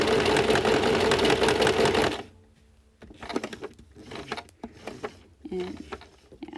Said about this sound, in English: the whole reason I hand wheel so that I can get those extra stitches just right to the edge where I want it